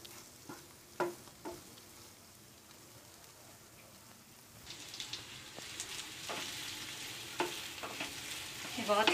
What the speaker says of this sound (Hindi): इसको भी एक मिनट तक भून लेंगे।